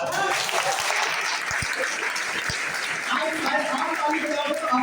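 An audience at a stage-sharing event in Dombivali gives steady, moderately loud applause, with a few distinct claps and crowd voices mixed through the clapping.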